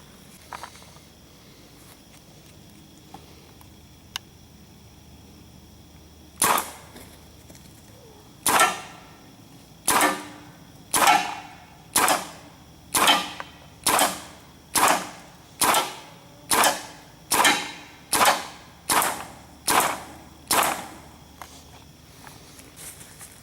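A Proto Reflex Rail paintball marker fitted with a Techt L7 bolt fires Infinity paintballs off a 6845 air tank. After a quiet start come about fourteen loud, sharp shots, close and evenly spaced in a steady cadence.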